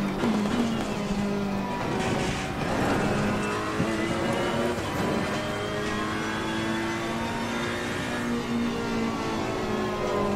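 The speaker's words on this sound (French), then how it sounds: "C'est pour ça que le moteur est excité" A GT race car in the Open GT Series on the Barcelona circuit screams through its revs in a racing game, with a steady loud engine whine climbing and falling across gear changes and a brief tire squeal, no voices.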